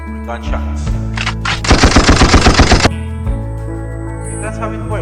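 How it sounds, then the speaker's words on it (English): Gunshot sound effect triggered on a V8 sound card: a rapid burst of about nine sharp shots in quick rhythm, loud and close, over a steady background hum. "let's say a gunshot"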